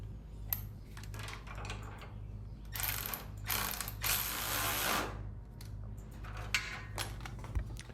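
A nut is tightened onto a 5/16 carriage bolt holding a GrassFlap spring mount on a Spartan 48-inch zero-turn mower. Quiet ratcheting clicks and small metallic rattles come in bursts, close by, over a low steady hum, with no voices.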